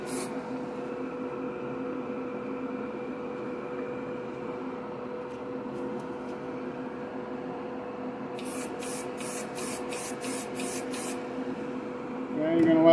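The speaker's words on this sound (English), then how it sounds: "you're obviously going to put a few coats of primer on as well." Primer sprayed from an aerosol can onto a plastic model car body, a GB-body street machine, in a run of about eight short, even hissing bursts over steady background hum.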